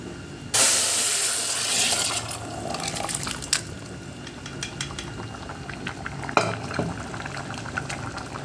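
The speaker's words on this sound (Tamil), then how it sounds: "ஒரு கொதி வந்தோடனே ஆஃப் பண்ணிடலாம்" Goat head curry bubbles and boils vigorously in a pot in a home kitchen, with a loud burst of hissing steam at the start, then a steady simmer punctuated by clinks of a metal spoon or utensil.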